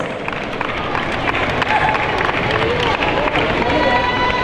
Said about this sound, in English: Another great big round of applause for all of our lovely ladies in the same age category